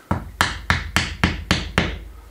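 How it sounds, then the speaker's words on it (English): Hammer knocking stones into a lime-mortar stone wall in an old kitchen, seven sharp, evenly spaced strikes close by, with no talking. "Where's my hammer?"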